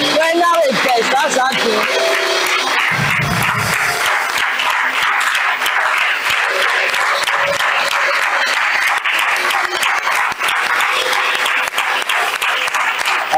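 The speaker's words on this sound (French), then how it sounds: "Acclame pour le Seigneur d'avoir donné la vie ce matin." A church congregation at a Sunday service bursts into sustained, loud applause and cheering that carries on throughout, with a preacher's voice speaking over it at the start.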